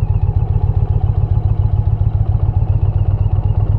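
Indian Challenger motorcycle engine chugging in a steady low pulse as it pulls away on the clutch alone with no throttle, loud and close, no talking.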